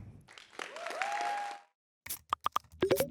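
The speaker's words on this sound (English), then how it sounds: "Join me in giving a round of applause to our first team pitching" Applause from an event audience at a startup demo day greets the first pitching team, a broad wash of clapping lasting about a second and a half before cutting off, followed by a few sharp isolated knocks and clicks.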